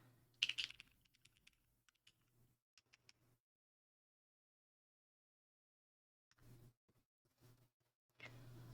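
Bursts of keystrokes on a Hiexa V80 mechanical keyboard with plate gasket mounting, quiet and close, in short runs separated by a long pause of near silence.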